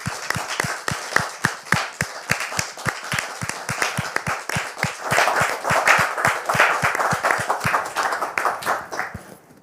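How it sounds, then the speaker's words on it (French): A studio audience claps to welcome a guest onto a Christian talk show, sustained applause with a steady rhythmic beat that holds strong throughout and then fades out at the end. "je voudrais vous demander de le recevoir ici maintenant sous vos applaudissements."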